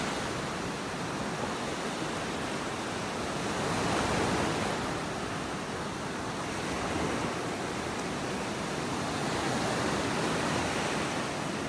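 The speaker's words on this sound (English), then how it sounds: "Those waves crashing in the back." Ocean surf breaks on a beach in North Naples, Florida, a broad continuous wash that swells gently around the middle and again later, fairly soft and with no talking.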